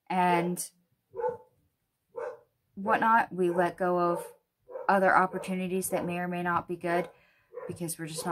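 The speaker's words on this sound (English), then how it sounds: "I apologize for my dog" A house dog gives a few short barks during a daily tarot reading, between and under a person talking steadily nearby.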